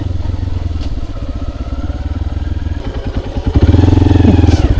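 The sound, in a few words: motorbike engine humming on a road in Vietnam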